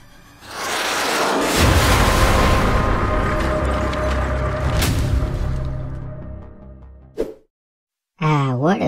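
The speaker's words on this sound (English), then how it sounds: "fire the missiles" Missiles exploding in a Roblox game: a deep rumbling boom swells and sustains for several seconds with debris-like crackle, then fades to silence before a brief voice-like sound cuts in at the end.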